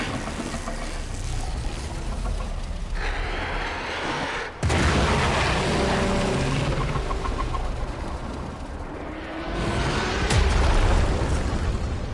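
Explosions in the Warframe video game: a sustained roar of blasts and debris with a sharp boom midway and another surge near the end, loud and dense, no talk.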